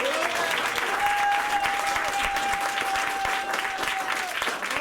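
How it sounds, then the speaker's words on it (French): An audience at a live radio show applauds steadily for several seconds, with dense clapping and some cheering under the room sound. "on les applaudit."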